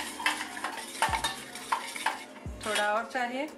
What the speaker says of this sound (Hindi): इसको हिलाते रहना है